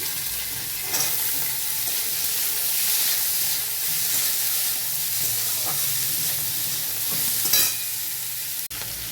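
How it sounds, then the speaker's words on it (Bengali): Cubed onions and capsicum frying in a pan, giving a loud, continuous close sizzle and hiss with occasional stirring scrapes, no voices. "এবার পেঁয়াজগুলো ছেড়ে দিলাম। তারপর দিয়ে দিচ্ছি ক্যাপসিকাম"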